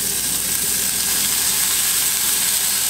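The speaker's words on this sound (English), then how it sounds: "we got our pan nice and hot. And we're just gonna throw in the bacon here." Thick-cut applewood smoked bacon fries in a hot pan, a dense, constant sizzling hiss that stays steady and close throughout, with no talking.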